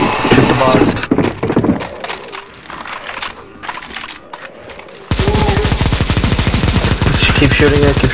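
Gunfire in a CSGO zombie escape mod boss fight on ze_necromanteion_v3_1, scattered shots and talk at first, then a dense rapid machine-gun-like burst of many overlapping shots that stays loud to the end.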